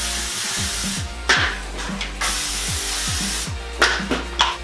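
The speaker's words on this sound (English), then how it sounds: "Just a little bit of cooking spray." Several quick hissing bursts of aerosol cooking spray greasing takeout containers, close and loud, separated by short pauses with some light clattering underneath.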